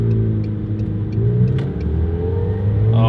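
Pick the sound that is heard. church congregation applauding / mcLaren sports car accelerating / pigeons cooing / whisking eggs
mcLaren sports car accelerating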